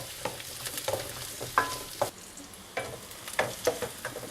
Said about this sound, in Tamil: நம்ம எடுத்து வச்சுருக்க இஞ்சி, பூண்டு, பச்சை மிளகா போட்டுக்கலாம்